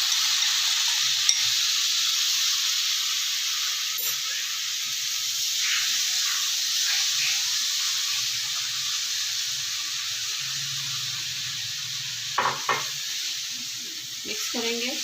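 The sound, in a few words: sugar and pineapple added to halwa sizzling in the pan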